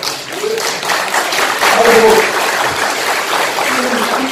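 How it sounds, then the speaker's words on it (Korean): Lecture attendees clap in a sustained, moderately loud burst of applause while a voice speaks over it at times. "여러분들 박수 치시는 동안"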